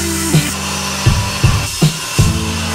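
A power saw rips wooden pallet boards into strips, giving a steady low motor hum that rises in several loud, short cutting bursts at irregular intervals, with no one talking.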